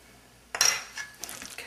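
Turmeric is folded through scrambled eggs in a pan, a brief metallic clink and scrape of a utensil against the pan, then softer scraping, close and short.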